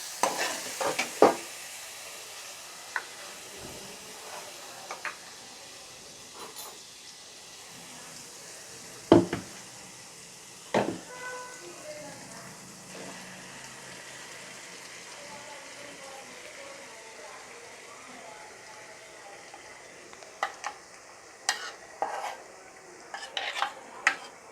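Crab gravy ingredients sauté softly in a pan while being stirred, a low steady sizzle broken by scattered scrapes and clinks of a spoon against the metal, fairly quiet and without talk.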